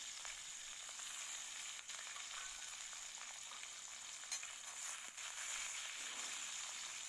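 Chickpeas and peanuts fry in oil with a faint, even crackling sizzle that holds steady throughout, no voices.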